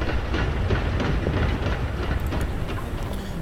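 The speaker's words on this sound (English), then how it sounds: "And let's take the train as far as it goes." Steady clickety-clack of a moving train in the wartime strategy game Order of Battle: Panzerkrieg, a continuous loud rumble of wheels over rail joints with no talk.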